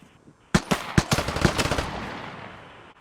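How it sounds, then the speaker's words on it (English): Gunfire in the video game Vigor: a rapid burst of about eight sharp shots starting suddenly after a quiet moment, then a long decaying echo trailing off into the distance. "one guy saw me and shot 2 rounds at me"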